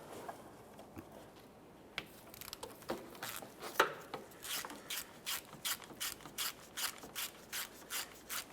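A ratchet loosens a 14mm engine mount nut on a 2014-2019 Toyota Corolla, giving close, crisp rhythmic clicking strokes that start sparse and settle into steady repeated bursts, no talking.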